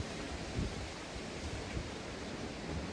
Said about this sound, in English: Oh gosh, it's so windy.